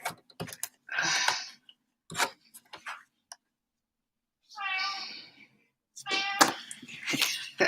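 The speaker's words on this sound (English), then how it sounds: "that's my cat, if you can hear him." A cat meows several times in a quiet indoor space. Its drawn-out, wavering cries come in separate bursts, with short clicks and small handling noises between them.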